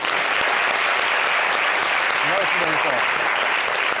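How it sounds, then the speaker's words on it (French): A studio audience claps loudly and continuously while a voice speaks over the applause partway through. "Merci d'applaudir."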